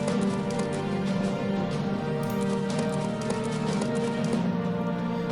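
Horses galloping in the Forge of Empires video game, a steady, dense clatter of hooves running continuously and loudly with no pauses.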